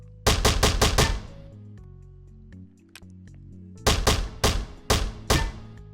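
C96-based pistol in the Rec Room video game fires in two quick bursts of sharp, punchy shots, with a few soft mechanical clicks and thunks between them, close and loud.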